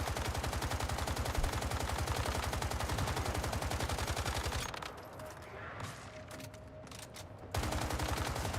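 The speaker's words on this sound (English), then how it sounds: "I'm shooting the one on the right." Rapid automatic gunfire from the video game Once Human rattles loud and close in a dense stream for several seconds. It drops off into a quieter pause, then the shooting resumes.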